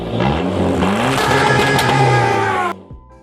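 A GT Cruiser car engine revs hard and loud, the pitch climbing and holding in a steady roar before cutting off sharply, leaving a faint idle.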